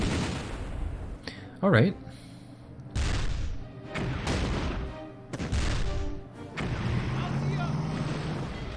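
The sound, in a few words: mortar and gunfire in the video game Battle Academy 2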